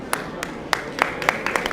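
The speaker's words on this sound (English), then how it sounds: "Give him rounds of applause" A few scattered, distinct hand claps from the audience at a community unity iftar gathering in Minnesota, spaced roughly every quarter second over a steady murmur of room noise.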